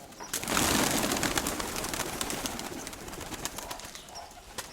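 Pigeons flying overhead make a burst of wing flapping and clattering, close and fairly loud at first, then thinning into lighter flutters and soft coos.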